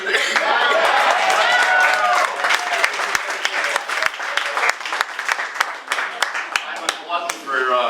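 Audience applause fills an auditorium during a live radio broadcast of a kazoo musical, a dense, loud patter of many hands that thins into scattered claps, with voices and light chatter mixed in.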